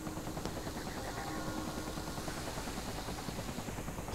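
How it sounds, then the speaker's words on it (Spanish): Helicopters in the strategy game Civilization VI give off a continuous, fluttering rotor drone at moderate level, steady throughout with no talk over it. "Mira, uff, helicópteros tienen"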